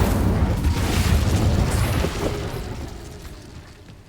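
An Incendio fire spell in Hogwarts Legacy bursts as a single loud, booming blast that rumbles and roars, then gradually fades away over a few seconds.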